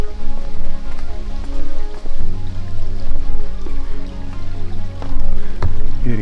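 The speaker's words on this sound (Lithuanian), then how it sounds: "Ir į ežerą įteka šaltiniai." Spring water trickles and splashes into Lake Giliai beside a nature trail: a loud, steady, close-up stream of running water with no pauses throughout.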